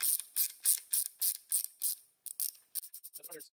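A ratchet clicks in quick repeated bursts while backing out quarter-inch bolts from a Ford Autolite 2100 carburetor, close and fairly quiet, with brief pauses between strokes and no talking.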